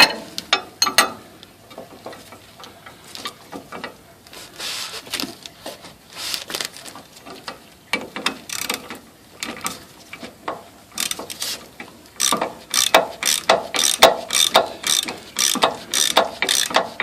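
A hand ratchet clicks in repeated bursts while tightening a strut mount nut on a 2004 Nissan Armada, the sharp close pawl ticks coming in uneven runs with short pauses between.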